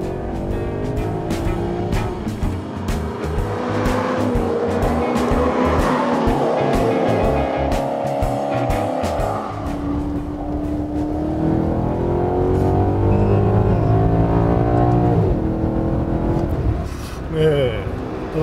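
A 2017 Maserati GranTurismo Sport launches at full throttle, its engine roaring loud and rising through the revs with tire squeal. The roar stays loud and close and climbs steadily in pitch, while someone talks over it.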